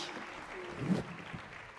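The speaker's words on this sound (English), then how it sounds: "Another big round of applause, ladies and gentlemen." Applause from a crowd at an event honoring African women leaders, steady clapping that swells briefly midway, with a voice faintly mixed in.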